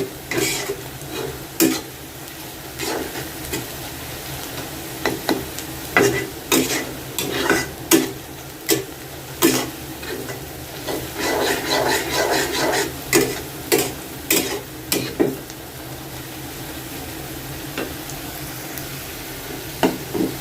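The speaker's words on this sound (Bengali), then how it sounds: "পেঁয়াজটা ভাজা হয়ে আসছে আর একটু ভাজা হবে আর কি" Onions and green chillies frying in a pan, a constant close sizzle broken by repeated scraping strokes of a spatula stirring, with no talk.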